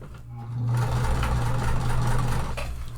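A sewing machine top stitching a tote bag, its motor running in a steady, loud, close whir that holds for a couple of seconds after a brief quieter start.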